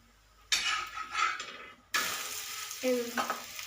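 A gram flour chilla fries in oil on a pan, sizzling up sharply in two loud bursts as oil hits the hot surface, with a metallic clink near the end.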